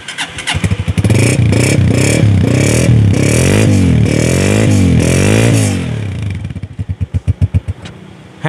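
A Honda 125 motorcycle is self-started and its engine runs with a loud, steady, pulsing idle that holds for several seconds before easing off into a few spaced, sputtering beats close to the recorder.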